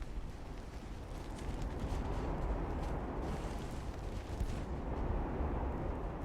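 Battleship guns fire in the naval warship game Ultimate Admiral: Dreadnoughts, a faint, continuous rumble of distant gunfire and blasts with no clear pauses.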